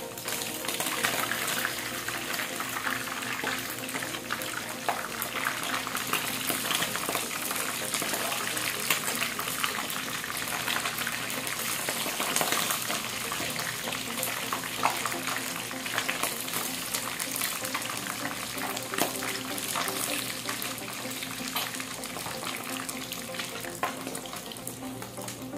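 Fish fries in a pan with a continuous hissing sizzle, dense crackle and spatter holding steady at moderate level for the whole stretch, faint background hum underneath and no talk.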